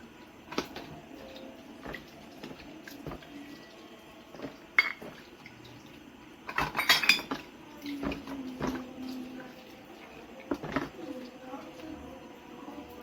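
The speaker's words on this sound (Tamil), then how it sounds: "கழுவுன பாத்திரத்தெல்லாம் எடுத்து ஓரமா வச்சிருவோம்" Washed metal kitchen vessels and dishes set down and stacked to dry outdoors, giving scattered clinks and clatters with a few louder knocks, fairly close, under quiet background and occasional talk.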